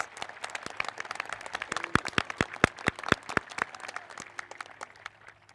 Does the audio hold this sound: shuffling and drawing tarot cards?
no